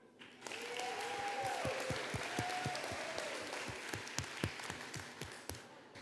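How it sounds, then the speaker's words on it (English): Applause from a convention audience at an anime convention's opening ceremony, a steady wash of clapping with a few sharper claps standing out, moderately distant in a large hall, with faint voices underneath. "So, round of applause for you guys, real quick."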